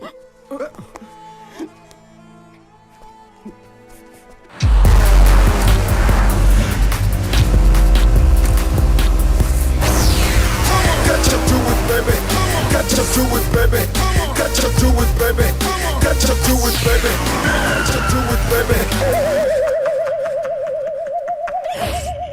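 A car roars in loud and fast after a quiet opening, engine and tire noise filling the scene for about fifteen seconds before cutting off abruptly, followed by a steady tonal hum.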